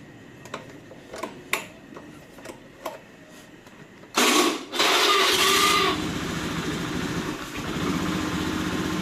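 A motorcycle engine with a modified relay setup starts after a few ticking clicks, then runs at a steady, fairly loud idle with no talking.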